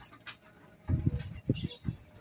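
Several soft, low pigeon coos in short rhythmic bursts, close by, with faint chirps in the background.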